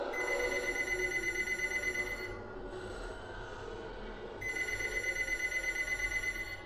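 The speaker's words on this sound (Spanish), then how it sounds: "sonó el teléfono en casa" An old-style telephone bell rings in a long continuous trill, stops briefly, then rings again, moderately loud with no voices.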